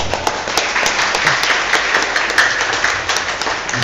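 A congregation applauds during an evening worship gathering, with sustained dense clapping and sharp individual claps standing out over the crowd for several seconds.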